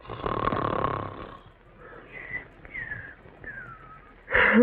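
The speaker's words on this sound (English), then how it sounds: "Either stop snoring or cover your head with pillows." A loud, rasping snore lasting over a second, followed by quieter whistling, squeaky breaths and a sudden sharp noise at the end.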